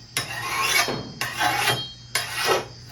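Three long rasping file strokes sharpen a machete blade, each a steady gritty scrape of about half a second to a second, close up and clear with brief gaps between them.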